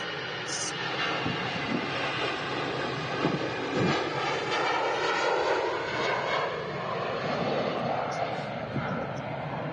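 An EasyJet jet airliner departs Manchester Airport bound for Munich, its engines producing a loud, sustained roar and whine that holds steady and swells slightly throughout.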